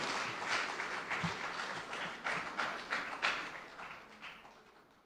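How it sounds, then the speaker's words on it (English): A round of applause for the distinguished chair at a memorial event, steady dense clapping from an audience sustained across the whole stretch at moderate distance, slowly thinning toward the end. "Another round of applause."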